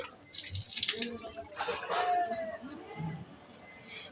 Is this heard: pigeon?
no